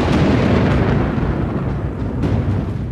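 A deep, continuous rumble of thunder from a brewing storm on the zebra migration plains rolls on for a few seconds, loud and broad, swelling and fading slightly without any clear break.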